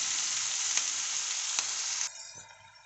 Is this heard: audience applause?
no